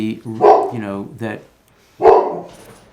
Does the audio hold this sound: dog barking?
yes